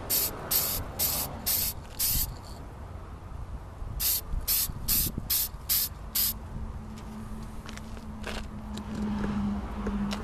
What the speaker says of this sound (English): It's got some cheap flat black spray paint.